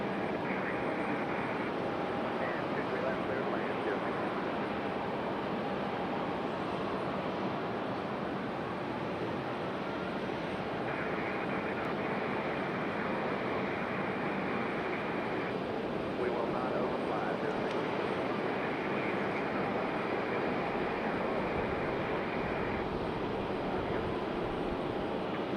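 A Republic Airways jet airliner taking off at Raleigh-Durham, a steady distant engine rumble that holds evenly throughout, with a person talking over it.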